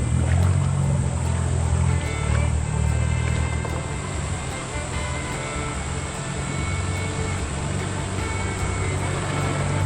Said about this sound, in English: What a tractor.